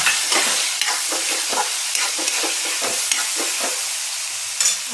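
Chana dal frying in hot oil in a pan for a dry cabbage dish, a loud close sizzle with repeated scraping stirring strokes in an irregular rhythm throughout.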